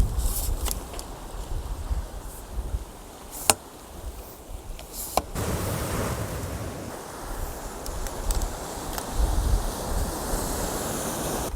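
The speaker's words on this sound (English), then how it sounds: "Hopefully it doesn't blow over because this wind is strong" Strong wind buffeting the microphone on the coast, with waves surging in the background and occasional sharp knocks, heard throughout at a steady roaring level.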